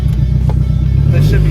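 A turbocharged K24 engine in a Honda Civic EK coupe runs with a loud, close, steady low idle hum as people speak nearby.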